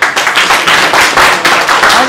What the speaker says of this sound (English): I think she deserves to be a round of applause,